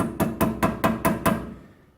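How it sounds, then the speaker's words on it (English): Six evenly spaced, sharp metallic taps from a small hammer striking a CV boot clip on a car driveshaft, close and clear, each ringing briefly before the series fades out. "little hammer, give it a tap"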